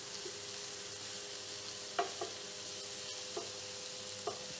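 Minced ginger frying in a pan, a quiet steady sizzle with a few soft clinks of stirring scattered through.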